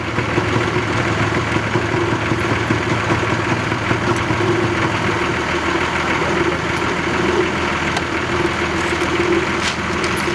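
A motorcycle engine idles steadily nearby, a continuous low chugging rumble that holds even and unchanged throughout.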